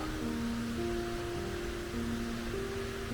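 Rinka waterfall, about 86 metres high, in the Logar Valley, a steady broadband rush of falling water heard from a distance, with faint steady tones layered over the continuous wash and no talking.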